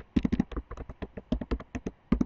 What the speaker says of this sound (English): And we are going to type in